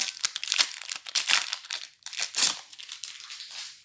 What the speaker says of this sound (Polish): więc otwieramy pierwszą paczkę